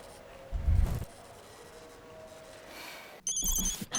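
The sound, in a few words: telephone ringing during a call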